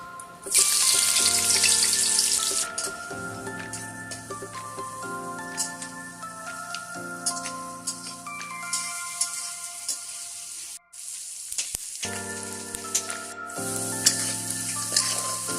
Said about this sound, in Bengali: তেল গরম হয়ে গেছে, তেলের মধ্যে এখন পেঁয়াজ কুচি দিয়ে দিচ্ছি।